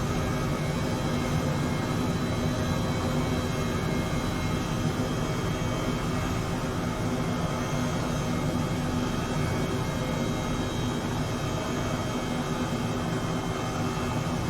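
H135 helicopter engine in Microsoft Flight Simulator 2020, a steady, loud turbine whine and rotor hum droning continuously and evenly without pause or speech.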